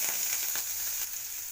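Mustard seeds, cumin and onion frying in hot oil for vegetable shavige uppittu, a steady close sizzle with faint crackles and no talking.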